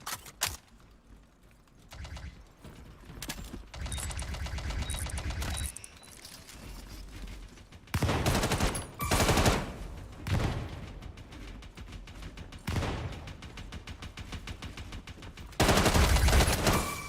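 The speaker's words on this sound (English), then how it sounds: "God damn your plasma spam" Plasma weapon fire in the sci-fi shooter Star Citizen, Star Marine mode: repeated loud bursts of rapid automatic shots, several sustained volleys separated by short lulls and fainter crackling.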